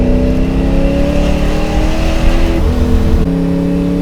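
A supercharged Ford Boss 302 Mustang roars loudly and close while accelerating, its engine note climbing through gear changes as the tires spin, with a strong, continuous rumble throughout.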